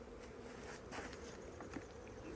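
Honeybees buzz at a hive entrance after being smoked, a dense, steady hum close to the listener with faint patter mixed in and no voices.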